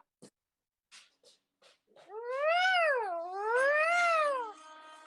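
A person imitates a cat with a long, rising and falling meow, loud and close, preceded by a few short clicks and breaths.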